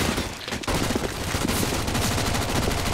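Rapid gunfire from a CZ pistol in a competitive shooter match, loud dense shots crackling continuously with no speech.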